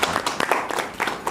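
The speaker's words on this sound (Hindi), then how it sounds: "ताली बजती है आपको" Clapping from a small group gathered at a teacher workshop, a brief uneven run of handclaps.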